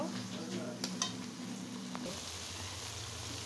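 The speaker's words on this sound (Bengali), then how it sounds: "এখন আমি মশলাটাকে অনেক সুন্দর করে তেলটা ছেড়ে আসা পর্যন্ত ভেজে নেব।" Spice paste for chitol fish curry fries in oil, a soft steady sizzle with a few light stirring clinks, accompanied by a low hum that shifts partway through.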